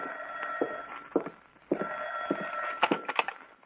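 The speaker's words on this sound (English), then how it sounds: "it was about 11 o'clock when the phone rang" A home telephone rings in an apartment at night, its bell sounding in repeated bursts with short pauses between, fairly clear and alone with no talk.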